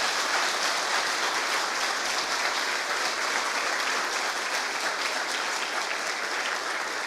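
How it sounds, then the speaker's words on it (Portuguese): A church congregation applauding during a celebration service, sustained dense clapping from many hands that stays steady and full for several seconds with no one speaking over it. "Então aplauda a Deus por essa verdade."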